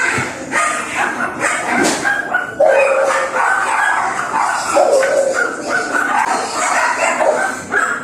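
Several dogs bark and yip close by in loud, repeated bursts, with some higher whining calls mixed among the barks.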